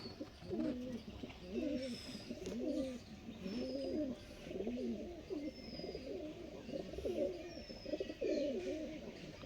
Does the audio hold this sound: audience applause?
no